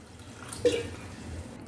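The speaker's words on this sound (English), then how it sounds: "Now add little water." Water is poured into a pan of sweet corn curry, a brief soft splash and trickle near the middle, faint and close over a quiet background.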